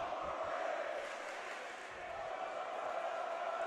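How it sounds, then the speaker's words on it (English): A Dematha high school basketball crowd in a packed gym chants in unison during a game against Gonzaga, a steady roaring wall of many voices that runs the whole time without a break. "The Dematha crowd saying overrated."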